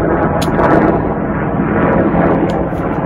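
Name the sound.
navy plane or helicopter flying overhead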